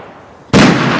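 A single sharp, loud rifle shot at an outdoor shooting range, cracking in suddenly after quiet and leaving a sustained echoing tail.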